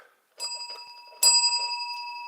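A bright bicycle-style bell rings out clearly, a couple of sharp strikes with sustained ringing tones that hang and decay, loud and close with no talking.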